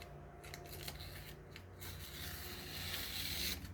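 Freshly sharpened knife blade slicing through material, a steady scraping, rasping cut that runs continuously and grows slightly louder toward the end, close to the microphone with no voices.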